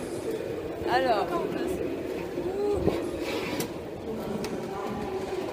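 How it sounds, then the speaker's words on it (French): Paris metro train rumbles and squeals at moderate loudness, with a rising tonal whine and rail noise under occasional nearby speech. "on est dans le métro."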